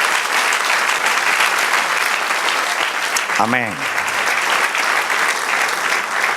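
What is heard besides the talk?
church congregation applauding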